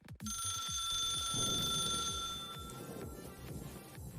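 In The Suicide of Rachel Foster game, a telephone bell rings continuously for about two and a half seconds, a bright sustained trill over soft footsteps and room noise, then falls silent.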